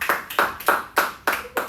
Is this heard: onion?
no